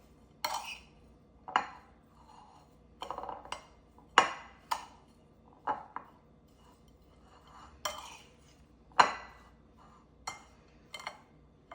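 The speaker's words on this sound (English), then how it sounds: "shredded coconut, and half a cup of sugar and a tablespoon of cumin seeds. And I'm going to mix that very well too" Shredded coconut, sugar and cumin seeds are stirred in a bowl for dumpling filling, with a spoon knocking and scraping against the dish in a series of clinks spaced a second or so apart, close and fairly quiet.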